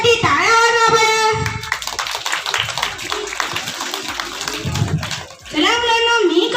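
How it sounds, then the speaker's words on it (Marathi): Schoolchildren in a classroom break into a burst of many-handed clapping, framed at start and end by kids' chanted voices, with the applause loud and continuous in between. "स्वतःसाठी टाळ्या वाजवा बरं"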